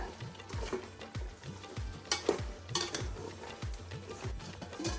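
Mutton with mint and coriander leaves sautéing in a pan for Ambur mutton biryani, stirred with steady, regular scraping strokes over a soft, continuous sizzle, close by with no talking.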